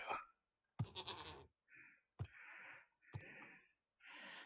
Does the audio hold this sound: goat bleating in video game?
yes